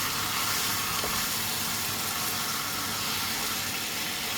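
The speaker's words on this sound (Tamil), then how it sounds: "நல்லா வதக்குறோம். மசாலா இதெல்லாம் நல்லா இதாகிற மாதிரி ஒரு 5 நிமிஷம் அதை போட்டு இந்த இதிலேயே வதக்குறோம்." Masala sautéing in a pan for white chicken curry gives a steady, even sizzle with soft hissing that holds constant and fairly close throughout.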